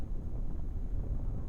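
Low, rumbling wind blows steadily through the Kerbal Space Program game soundscape, a soft, continuous whoosh with no voices.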